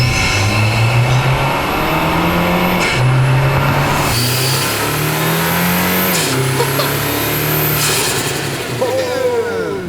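A 2024 Toyota Tacoma fitted with a K&N cold air intake revs loudly in a series of rising and falling pulls, with intake whoosh and engine roar up close.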